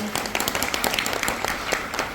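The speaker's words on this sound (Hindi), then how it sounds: "दिल की गहराइयों से एक बार जोरदार तालियां हो जाए।" An audience at a corporate speech event claps loudly in honour of three guests. Individual hand claps stand out as sharp, irregular bursts through a short spell of applause.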